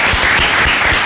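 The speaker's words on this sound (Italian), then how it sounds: "Scusate, un applauso." Loud, dense audience applause at a gathering, a steady continuous roar of many hands clapping close by.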